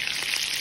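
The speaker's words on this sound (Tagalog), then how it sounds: "Nag-prito ako ngayon ng steak." Steak frying in a pan gives a steady, close sizzle with a fine crackling hiss that stays even and unbroken for a moment, with no voices.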